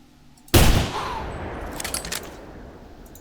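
A single sharp Bullpup rifle shot fires in a hunting video game, loud and close, followed by a rolling echo that fades over a few seconds.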